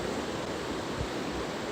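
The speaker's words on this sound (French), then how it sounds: "de l'eau fraîche qui tombe, bien oxygénée" Rain and fresh water pouring into a river in flood in Ariège, a continuous broadband rushing wash, steady and fairly close, with no voices.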